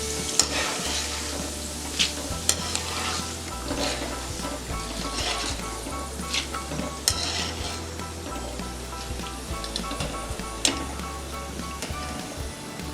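Chana dal frying in oil for poha chivda gives a steady, close sizzle with scattered sharp clicks and stirring knocks throughout, over faint tonal background sounds.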